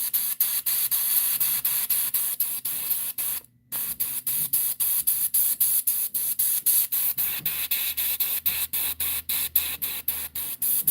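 An airbrush sprays paint in rapid, regular bursts while freestyle koi fish patterns are painted on fishing lures, a loud hissing spray cut by short pauses, with one longer gap partway through.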